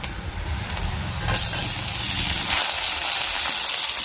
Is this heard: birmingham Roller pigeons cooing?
no